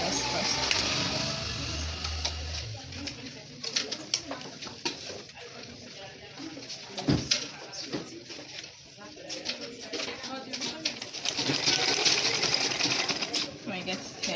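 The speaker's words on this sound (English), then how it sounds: "So you help secure the straps at your waistline by sewing like this first." A sewing machine stitches the straps of an Ankara two-colour layered zig-zag skirt at the waistline, its busy mechanical whirr running steadily throughout alongside bird cooing and occasional talk.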